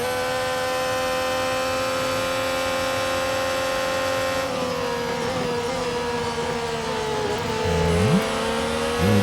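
An F1 racing car engine in Real Racing 3 whines steadily at high pitch, holding a sustained tone and then dipping and climbing again as the car shifts near the end.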